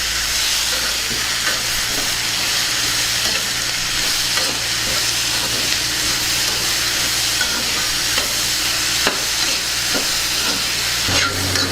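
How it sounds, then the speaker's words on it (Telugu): Peanut tamarind chutney being stirred with salt and chopped coriander, a steady close scraping and mixing over a constant low hum and faint sizzle, with no talking. "ఇప్పుడు మొత్తాన్ని బాగా కలుపుకుందాం"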